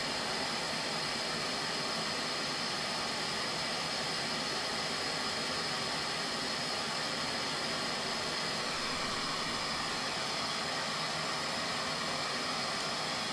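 A torch roars steadily as it heats a bicycle frame joint for silver soldering, an even, faint hissing rush that holds constant throughout with no talk.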